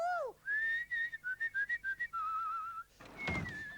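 A person whistles a wavering, bending run of notes, some held and some in short staccato bursts, close and clear, ending with a brief breathy noise.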